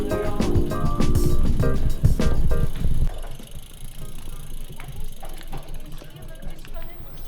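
Bicycles walked through a pedestrianized street in Stein am Rhein, Switzerland, their freewheels ticking in a steady mechanical rattle, loud and busy for the first few seconds, then quieter, with voices in the background.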